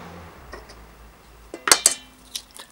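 Extracts, melted butter, cream and egg are mixed in a bowl, with quiet stirring punctuated by a few sharp utensil clinks against the bowl, loudest in a quick pair midway.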